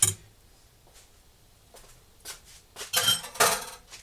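Clean metal spoon clinking and scraping against a pot of home-canned turkey gravy: a few faint taps early on, then a cluster of louder close clatters near the end, with no talking.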